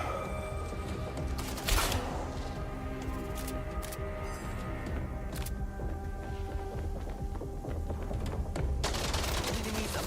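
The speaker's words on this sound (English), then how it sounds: "Because it's a laser gun." Rapid, dense bursts of laser gun fire in the video game MindsEye, continuous loud volleys with crackling impacts layered under game ambience throughout.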